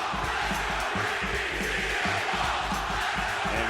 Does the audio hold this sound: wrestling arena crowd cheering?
yes